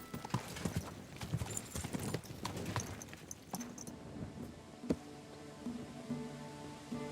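Steady clip-clop of horse hooves on a hard surface in Kingdom Come: Deliverance II, close and rhythmic, with a few sharper knocks and a low ambient hum underneath.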